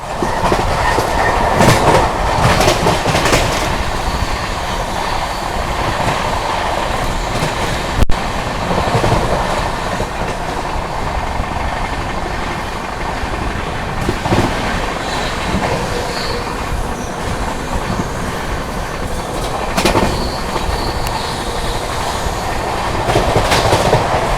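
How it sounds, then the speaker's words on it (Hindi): The Poorvottar Sampark Kranti express runs at a steady high speed on the way to New Delhi, with a loud continuous rumble and wheel clatter from inside the coach and occasional rail clicks and squeals. "अब अपनी गाड़ी जो है फ्लैट 130 भागेगी टिल न्यू दिल्ली"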